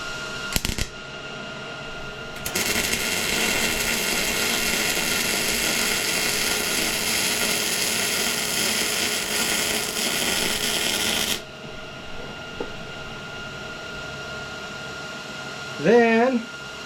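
A steady, harsh crackling buzz of welding on the top seam of a 1932 Chevy hotrod frame runs for about nine seconds, followed by quieter shop sounds and a short voice at the end.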